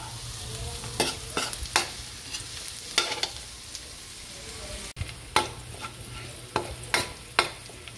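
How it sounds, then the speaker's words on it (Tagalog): Garlic sautéing for ginisang munggo, a Filipino mung bean stew: a steady oil sizzle broken by repeated sharp scrapes and clacks of a spatula stirring in the pan, close and loud. "Magigisa na po tayo para sa ating ginisang munggo."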